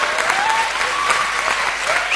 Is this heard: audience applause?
yes